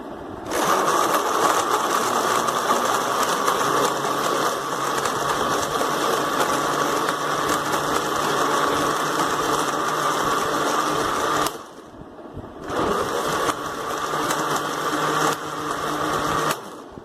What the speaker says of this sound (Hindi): तो अब हम इसको करेंगे ब्लेंड।